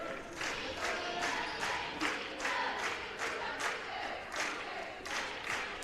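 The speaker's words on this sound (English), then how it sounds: "The cheerleaders get the crowd hype." A high school basketball crowd at McLean County versus Russellville roars during a timeout as cheerleaders rouse it, with loud rhythmic bursts of clapping or stomping repeating about twice a second over steady crowd noise.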